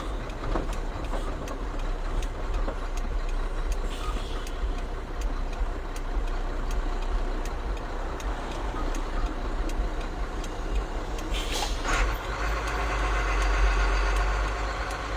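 A heavy rollback truck engine drones and rattles steadily throughout, loud and close, with a few brief knocks and clatters over the constant rumble.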